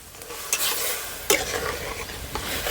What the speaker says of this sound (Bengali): এবার একটু ভালো করে নেড়ে চেড়ে মিশিয়ে নেব দুধের সঙ্গে